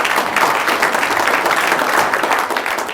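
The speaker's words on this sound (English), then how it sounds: "Give them a nice round of applause." Audience applause following an agricultural policy presentation, a steady dense wash of many hands clapping that holds at full strength for the whole stretch, close and loud with no talk over it.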